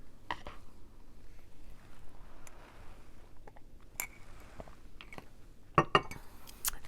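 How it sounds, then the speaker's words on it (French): A close, quiet sip from a drink, with soft mouth and lip sounds, then a couple of sharp little clicks or clinks near the end. "je vais prendre une gorgée."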